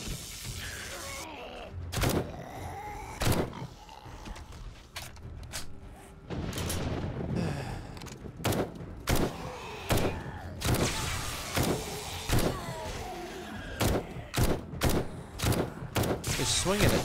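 Video game gunfire in short bursts rather than full auto: sharp broadband cracks repeat in clustered volleys across the stretch, loud and close, with thumps and mechanical clatter between them and a voice speaking intermittently underneath.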